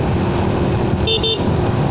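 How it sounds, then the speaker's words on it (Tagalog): A stock Raider 150 Fi motorcycle on a top-speed run gives a loud, steady engine roar mixed with wind rush, with a short tonal blip partway through. "Raider FI ni Serayo."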